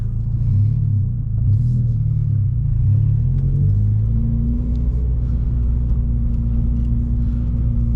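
A lowered Subaru BRZ with an aftermarket catback exhaust drives along with a loud, deep, steady rumble heard from inside the cabin, the engine note rising and falling slightly as it cruises, with no talking.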